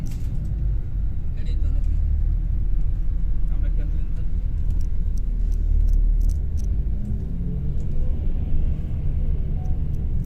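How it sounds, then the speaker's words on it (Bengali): A city bus drives along a road in Malé, Maldives, with a steady low engine rumble and road noise, and someone talks over it throughout. "মেনুর ভাই, আমরা শহরের ভিতরে রাস্তা দিয়ে এখন যাচ্ছি, কিছুক্ষণের মধ্যে নেমে যাব।"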